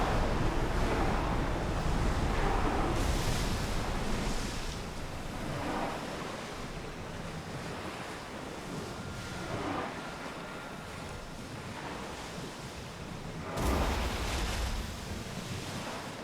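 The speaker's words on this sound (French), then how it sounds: "Vous sentez ce vent?" In Assassin's Creed Odyssey, wind and ocean waves wash past a sailing ship in a steady broad roar, with swelling surges and one sharp gust near the end.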